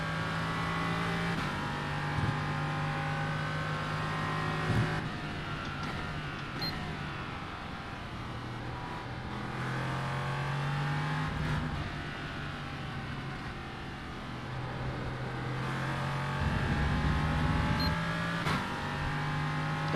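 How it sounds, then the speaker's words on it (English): An LMP2 prototype race car roars along the track, its engine note rising and shifting through gears as it passes at speed, loud and continuous, with other engine noise layered beneath. "Got Jared Wishon coming up in that LMP2"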